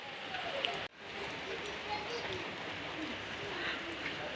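Steady rain falling outdoors where boys have been playing cricket, a continuous broadband hiss with a brief dropout near the start and faint voices or bird sounds in the background.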